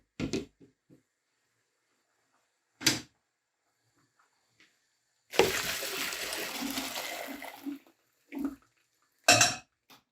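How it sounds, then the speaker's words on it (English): Pasta water is poured from a pot through a colander in a home kitchen, making a loud splashing rush for about two seconds, surrounded by short clanks and knocks of pots and utensils. "let's get this pasta out. We're going to need to drain it with our trusty colander"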